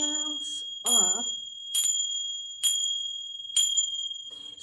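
Belly dance finger cymbals bounced off each other's edges ring out in four bright, sustained strikes at a steady pulse, each tone lingering, with a voice speaking briefly near the start.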